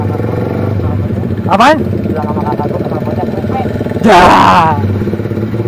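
A Suzuki GSX R150 motorcycle fitted with a replacement exhaust, its engine idling steadily with two sharp revs, the second longer, while someone talks briefly over it nearby.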